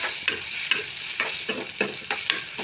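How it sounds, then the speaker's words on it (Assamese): Masoor dal lentils being stirred in a hot frying pan with onion and red chili, a series of scraping stirs repeating about every half second over a soft continuous sizzle, close and clear. "ডালটো দি অলপ হিলাই দিম।"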